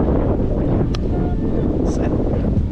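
Strong wind on a golf course buffets the microphone in a steady loud roar, with a couple of faint brief sounds in the background.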